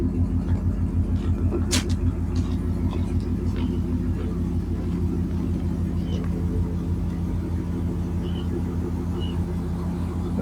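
A car engine idles steadily after a springtime cold start, a continuous low rumble with an even harmonic throb that holds level throughout, with faint incidental clicks above.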